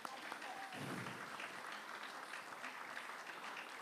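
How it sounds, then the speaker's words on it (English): Audience at a cultural dance festival gives a steady round of applause for a group of dancers, a continuous crowd clapping with a voice briefly heard over it. "Can we encourage them with a huge round of applause?"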